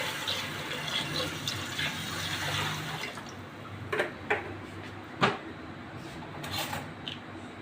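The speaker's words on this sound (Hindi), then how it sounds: "4 कप मैं इसमें पानी की ऐड करूँगी" Water poured from a vessel into a cooking pot of green gram dal with turmeric, a steady soft splashing fill that thins out into a few small splashes and clinks, faint and close with no talk.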